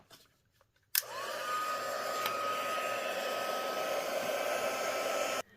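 A handheld heat tool switches on with a sharp click and blows a steady, close, rushing whir for several seconds over wet stamping ink prepared for gilded leafing, then cuts off.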